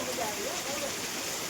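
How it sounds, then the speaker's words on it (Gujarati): Rain falls steadily in Kutch, a soft, even wash of drops on surfaces, with faint voices briefly rising through the patter. "ફાઇનલી વરસાદ આવી ગયો છે"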